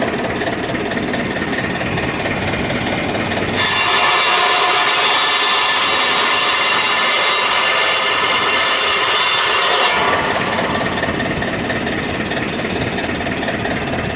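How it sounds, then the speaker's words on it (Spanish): A multifunction circular saw table bites into firewood, its loud steady whine filling about six seconds between stretches of lower mechanical running noise. "Ahora vamos a cortar leña."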